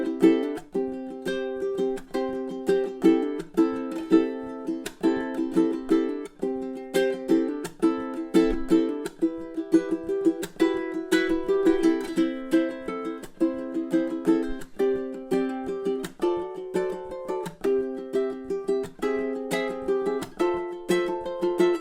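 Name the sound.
ukulele playing a tune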